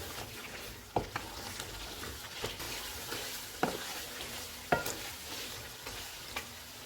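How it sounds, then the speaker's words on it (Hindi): Mutton fries on a high flame with white pepper, fenugreek and green chillies, a steady soft sizzle broken by periodic scraping stirs of a spoon, close but fairly quiet. "चूल्हे को फुल कर देते हैं और इसको 3 से 4 मिनट तक भूनेंगे"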